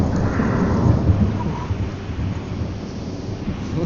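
Thunder rumbles loudly and continuously during a storm, a deep rolling roar with a brief swell near the start, accompanied by rain and wind noise.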